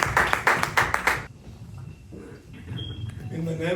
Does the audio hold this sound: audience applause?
yes